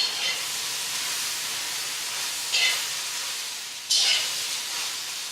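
Shrimp and vegetables sizzle steadily in a hot pan over medium-high heat in a garlic ginger stir-fry, with a constant loud hiss and two brief surges of sharper spattering.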